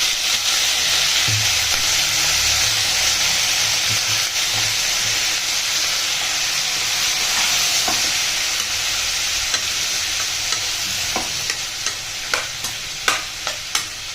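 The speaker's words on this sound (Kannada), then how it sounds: "ಹೀರೆಕಾಯಿ ಎಲ್ಲ ಚೆಂದಾಗಿ ಎಣ್ಣೆನಲ್ಲೇ ಫ್ರೈ ಆಗಬೇಕು" Ridge gourd fries in hot oil with a steady, dense sizzle and hiss, while a spoon stirs the pan; the frying holds constant throughout, and sharper scraping clicks of stirring grow more frequent near the end.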